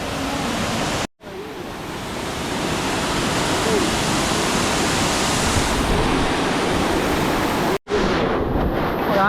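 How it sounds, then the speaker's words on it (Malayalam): Palakuzhi waterfall roars as a steady, loud broadband rush close by, continuous for the whole stretch apart from two brief dropouts. "പക്ഷേ ആ വെള്ളച്ചാട്ടം നോക്കിയേ."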